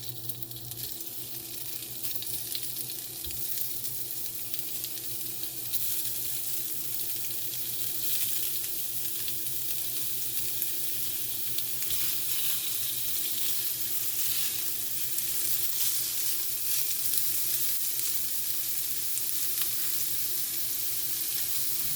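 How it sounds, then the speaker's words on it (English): Steady, close sizzling and crackling of breakfast sausage frying in a hot pan, continuous throughout with no voices. "we'll let that sizzle"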